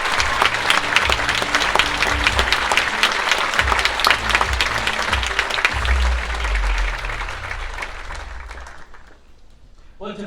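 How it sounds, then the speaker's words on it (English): Sustained applause from a large audience at a BMW presentation at CES, dense clapping throughout that gradually fades out near the end. "You deserve a big applause."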